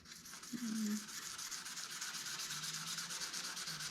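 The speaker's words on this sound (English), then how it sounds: "anywhere that I was sanding, I just want to go ahead and wipe that off" Steady rubbing of hand sanding, a continuous close scratchy hiss with a faint even back-and-forth texture.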